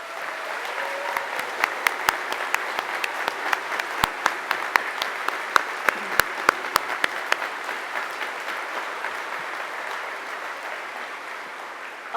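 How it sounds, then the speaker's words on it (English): A dedication audience at Patriot Plaza breaks into sustained applause honoring Sandy, a dense even wash of clapping with sharp individual claps standing out, gradually thinning toward the end. "your applause, we will make sure that she gets a chance to hear"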